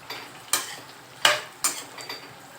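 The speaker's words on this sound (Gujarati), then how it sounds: "થોડી વાર સુધી આપણે ભીંડાને થોડો ફ્રાય કરી લઈશું" Okra (bhindi) frying in hot oil for bhindi masala, with a faint steady sizzle broken by several sharp stirring clatters from a spoon against the pan.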